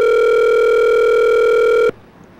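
A steady telephone dial tone sounds loud and close for almost two seconds while a call is being placed, then cuts off abruptly into near silence.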